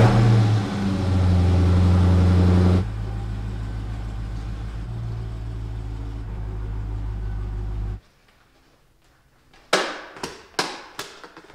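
A car engine runs with a low steady drone, shifts in tone as the car is pulled forward, then cuts off, followed by a few sharp clacks and knocks close by.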